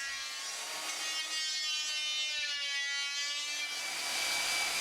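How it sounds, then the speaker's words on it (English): A hand planer shaves wood from a handmade Aleutian-style kayak paddle in one steady, continuous stroke, a close and even rasping whine. "Some material can be removed with the planer."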